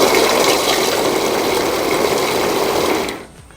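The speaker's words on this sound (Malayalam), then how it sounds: "അത് ഇനി ഒന്ന് അരയ്ക്കുന്നതാണ് കാണിക്കുന്നത്. നമ്മൾ കുറഞ്ഞ സ്പീഡ്, അത് 2 സ്പീഡാണുള്ളത്, കുറഞ്ഞ സ്പീഡ് നമ്മൾ ഉപയോഗിക്കുന്നു." Skytone multi grinder/cutter running at its low speed setting, a loud steady motor whir with a dense buzzing texture that holds for about three seconds and then winds down as it is switched off.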